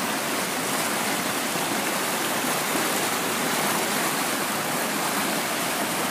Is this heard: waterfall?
yes